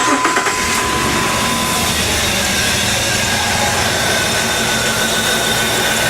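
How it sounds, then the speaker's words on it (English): A car engine with a bad ignition coil idles loudly and unevenly, its steady rumble broken by a faint irregular stumble from the misfire, running on alone after a brief start-up. "Now if you can hear this, you can hear the misfire."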